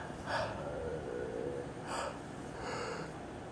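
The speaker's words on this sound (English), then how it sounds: "every time I do one of these, I yawn" A person yawns, a faint, close, breathy drawn-out exhale with a few soft gasping breaths spaced across a few seconds, with no talk.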